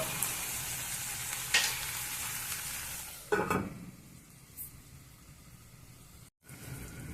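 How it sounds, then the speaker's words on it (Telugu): Onions fry and are stirred in a pan for egg masala curry, a steady sizzle with sharp scraping bursts as the spoon moves, then a softer, calmer simmer toward the end. "మధ్య మధ్యలో కలుపుతూ ఉండండి లేదంటేనే ఉల్లిగడ్డ అడుగంటే అవకాశం ఉంటుంది"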